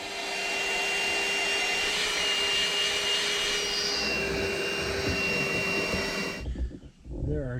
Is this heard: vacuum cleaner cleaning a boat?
yes